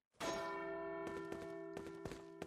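A bell in the video game Resident Evil 4 rings out with one loud, resonant strike that rings on with a long, sustained tone, with a few faint knocks and clicks over the decay.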